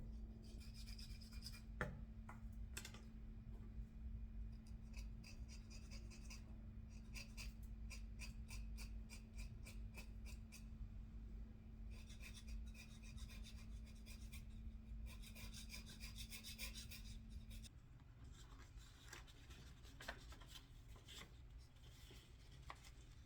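Something scraped down by hand while making 1,000 year tea, a close, dry rasping of repeated short strokes that comes in bursts over a low steady hum.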